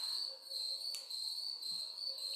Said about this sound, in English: We're back to the crickets. Oh, too chirpy for me.